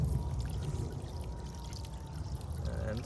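A solar fountain pump with its nozzle removed pushes out a steady, close stream of water that pours and splashes continuously with no break, alone and without talk.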